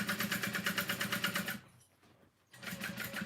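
Domestic sewing machine stitching a vinyl handbag, rapid rhythmic mechanical chattering of the needle, pausing for about a second before resuming at the same fast pace, close and clear.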